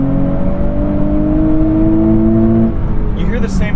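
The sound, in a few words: sports car exhaust whooshing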